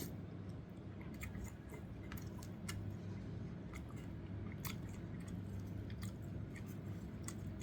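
Close, faint chewing of kimchi ramen with eggs, a steady run of soft wet bites and squishy crunches with no talking.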